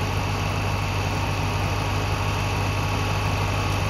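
A 2005 Roush Mustang engine runs steadily with its A/C compressor engaged, a loud, continuous close-range hum and drone with no breaks.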